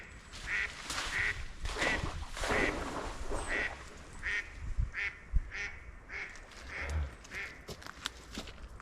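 A duck quacks repeatedly in an even series of fairly loud calls beside icy winter water, with light rustling and a few faint thumps around it.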